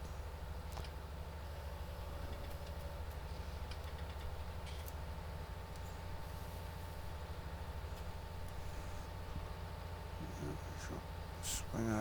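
A tractor engine in Farming Simulator 19 idles as a low, steady drone, faint and unbroken throughout with light clatter on top.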